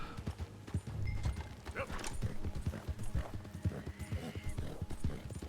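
Horse hooves clip-clop in a steady trotting rhythm in the Red Dead Redemption 2 video game, close and clear, with a brief whinny and some game ambience mixed in.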